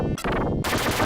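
Rapid digitized weapon fire from the Sega Genesis shooter Gley Lancer comes as a short burst of bright, gritty repeating shots in quick succession, loud and alone.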